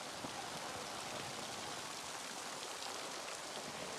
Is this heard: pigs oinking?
no